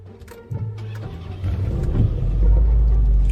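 A car engine starts with a low rumble and then revs, growing steadily louder and heavier toward the end during a driving lesson.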